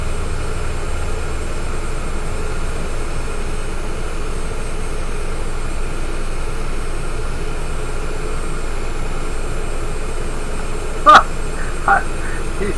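Constant engine hum inside a Cessna Citation Longitude jet, a steady even drone running throughout with one short click near the end.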